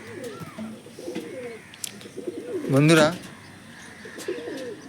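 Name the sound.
pigeons cooing in a loft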